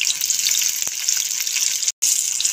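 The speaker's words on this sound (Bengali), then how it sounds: "এখন দিয়ে দিচ্ছি কুচি করে রাখা পেঁয়াজ।" Chopped onion hitting hot mustard oil in a pan, a close, steady bright sizzling hiss that cuts out for a split second near the end.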